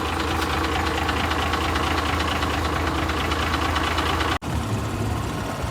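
Motorbike engine idling close by, a steady loud rumble with faint rhythmic knocking, continuous apart from one brief dropout near the end, no talking.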